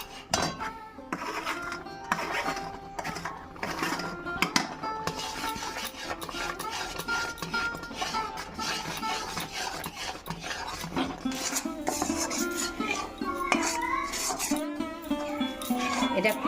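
Fried semolina stirred slowly into boiled milk in a pot over a low flame for a soft sweet, with steady scraping and clinking of the spoon against the pot, continuous and close.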